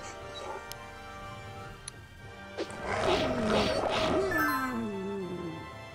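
Wolves growl and roar during a fight in Battle for Wesnoth, a cluster of snarling animal cries swelling midway over game sounds, with speech in the background.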